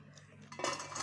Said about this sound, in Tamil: இப்போ ஒரு அகலமான ஒரு பாத்திரம் எடுத்துக்கோங்க.